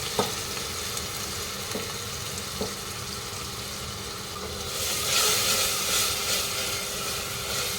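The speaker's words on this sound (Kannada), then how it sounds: "ಈರುಳ್ಳಿ ಚೆನ್ನಾಗಿ ಫ್ರೈ ಆಗಬೇಕು ಸೊ ಇವಾಗ ರುಬ್ಬಿದ ಮಸಾಲೆ ಅಂದರೆ ಆವಾಗ ರುಬ್ಬಿದ್ನಲ್ಲ ಅದೆಲ್ಲ ಹಾಕ್ಕೊಳ್ತಾ ಇದ್ದೀನಿ" Onion and freshly ground masala fry in a pan for a lunch recipe, giving a continuous sizzle with a few light stirring knocks. The sizzle swells louder partway through.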